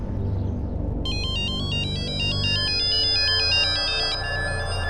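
A mobile phone ringtone plays a repeating electronic melody for several seconds at moderate volume indoors, sounding alone with a low hum underneath before the tune stops.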